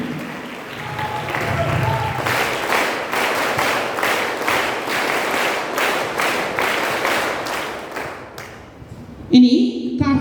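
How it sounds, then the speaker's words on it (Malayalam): An audience claps for school award winners, including national swimming and cricket contestants: steady dense applause running for about eight seconds, with a brief voice at the start and a louder sharp sound near the end. "നമുക്ക് കൈയടികളോടെ ഇവരെ അനുമോദിക്കാം."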